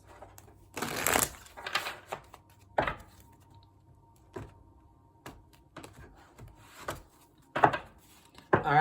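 Tarot cards are shuffled by hand in several short riffling bursts separated by pauses, close and fairly quiet, with faint rubbing between bursts.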